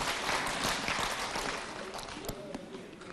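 An audience at a live session in Frankfurt claps together, giving a dense burst of applause that fades out after a couple of seconds, leaving quieter room sound.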